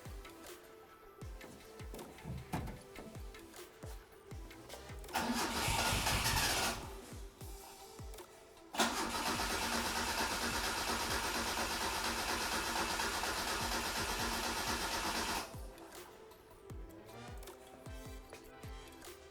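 An engine cranks, then catches and settles into a steady idle, with a brief pause between two long runs of running noise.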